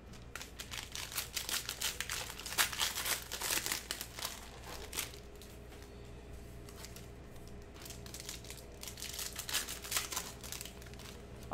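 A printed paper list is ripped and crumpled up by hand at a sports card break table, giving a run of close, crisp tearing and crinkling bursts that fade into quieter handling.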